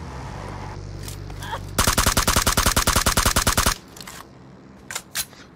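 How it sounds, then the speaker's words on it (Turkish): A fast, continuous burst of automatic gunfire from PUBG Mobile rattles for about two seconds, loud and close, set against quieter in-game ambience with a couple of faint single shots afterward. "Çok çok çok vurdum."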